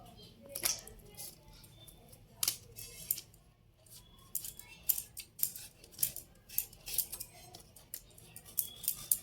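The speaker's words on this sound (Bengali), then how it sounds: "এইভাবে সব আমগুলোকে কেটে নেব।" A knife cuts raw green mangoes for a sweet-and-sour Bengali jaggery pickle, with repeated crisp, sharp cutting snaps at an uneven pace, close by, between quieter pauses.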